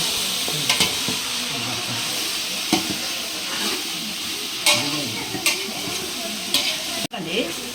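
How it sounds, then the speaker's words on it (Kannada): Chicken biryani ingredients roast in oil and ghee, giving a loud, continuous sizzle with repeated spatula stirs and scrapes against the pot and a single hard clunk near the end. "ಎಣ್ಣೆ ಒಳಗೆ ತುಪ್ಪದಲ್ಲಿ ಈ ಥರ ಹುರ್ಕೊಬೇಕು ಹಿಂಗೆ"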